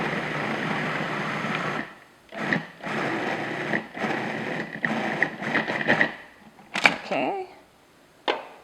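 A food processor blends granulated sugar into cream cheese for a lemon tart filling, whirring in several bursts of one to two seconds separated by short pauses.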